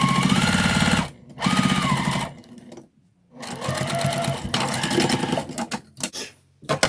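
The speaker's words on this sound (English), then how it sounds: "now I'm just going to baste across the bottom" A sewing machine bastes across the bottom of a Christmas car trash bag in loud, close bursts of rapid stitching, stopping briefly between runs and going quiet for a moment midway.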